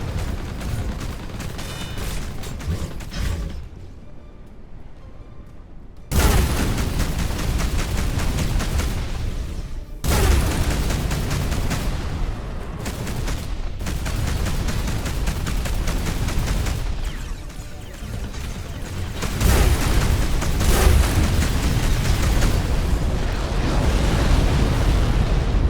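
Shooting and explosions in the sci-fi game Between The Stars: sustained roaring blasts and heavy rumbling bursts, loud and continuous in long waves, separated by a short quieter lull near the start.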